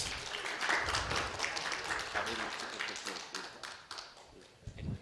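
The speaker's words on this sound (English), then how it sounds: "Give her a big round of applause." Audience applause at a college youth parliament event, a dense wash of clapping running throughout with a crowd murmuring beneath it.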